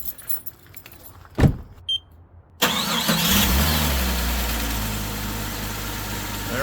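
A Jeep Cherokee engine cranks briefly and catches after a few clicks and small knocks, then settles into a loud, steady idle up close.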